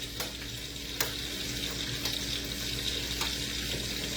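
Food stir-fries in a wok at high heat with a steady hissing sizzle, punctuated by a few sharp spatula strikes against the pan, while a low hum runs underneath.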